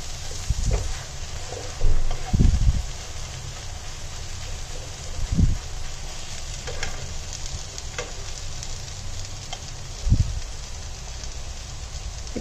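Spice powders frying in oil for a Kerala-style chicken curry, a soft continuous sizzle with occasional louder stirring scrapes and thumps from the pan.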